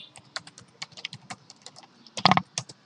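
Keys clatter on a computer keyboard in irregular close taps, with one quick burst of louder strokes near the end and no voices over it.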